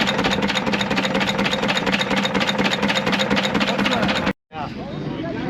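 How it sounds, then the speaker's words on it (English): An old stationary engine runs with a rapid, steady mechanical chugging and clatter, loud and close, before an abrupt cut and a brief shift to different background noise. "Now here's a stationary engine."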